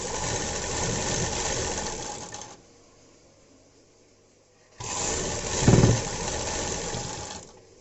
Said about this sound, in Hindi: यहाँ से मिलाते हुए पूरी स्टिचिंग कर देंगे